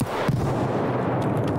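Gunfire in Escape from Tarkov on the Factory map, a dense close run of loud shots and booming reports packed into under two seconds, with sharper cracks near the start and end.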